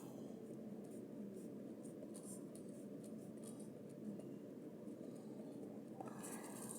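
A pen drags faintly across paper while a trigonometry graph is drawn, giving soft continuous scratching strokes under a low background hiss.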